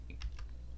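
Quick keystrokes on a computer keyboard, a few light clicks in a short burst over a low steady hum, close and fairly quiet.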